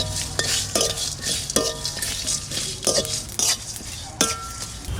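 Spices and broken dried chillies fry in a pan, a low sizzle broken by repeated scraping and clinking stirs of a utensil against the metal, close and irregular, with no talk.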